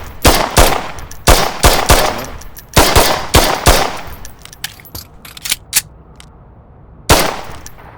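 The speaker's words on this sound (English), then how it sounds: "Controlled bursts when you have LMGs because they're designed as a suppression fire system" Light machine gun fire in controlled bursts, loud and close. Several short volleys of rapid shots are separated by brief pauses, with a few scattered single shots before a final burst.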